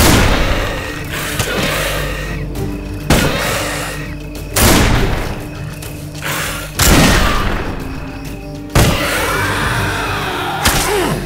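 Musket gunshots in the video game Risen 3, several heavy booming shots spaced a couple of seconds apart over ongoing game noise, no talk.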